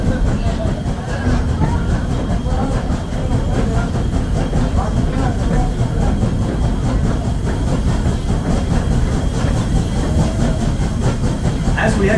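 A Strasburg Railroad passenger train rolls along its tracks, a steady low rumble with faint rhythmic clatter running continuously and fairly loud.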